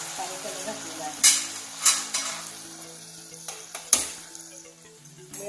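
Sugar and water cook into a single-thread syrup in a pan for sweet chillies, with a soft bubbling sizzle broken by several sharp spoon clinks and scrapes as it is stirred.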